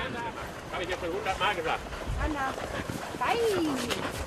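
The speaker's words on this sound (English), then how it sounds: "I ask myself how the dogs know which way to run and why they're so worked up" Hunting dogs on an aniseed scent trail during a drag hunt in Germany bark, yip and whimper in an excited, overlapping chorus, with one rising then falling whine near the end, heard close over outdoor background noise.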